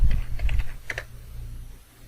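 A few quick computer keyboard keystrokes tap close by in a short cluster, then fade to quiet room hum.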